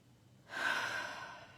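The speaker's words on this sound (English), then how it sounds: "And just some nice deep breaths." A single slow, deep breath, soft and close, drawn out over about a second in a quiet room with no talking.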